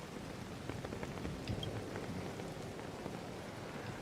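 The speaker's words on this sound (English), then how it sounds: "I do quite like the rain noises." Steady rain ambience from the video game Honkai Star Rail, a soft continuous patter of drops with occasional faint splashes, even and quiet throughout with no voices.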